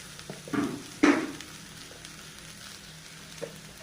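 Dried shrimp stir-fried with onion, garlic, salt and turmeric in a pan, giving low sizzling with two scraping stirs near the start and a faint clatter later, no talking.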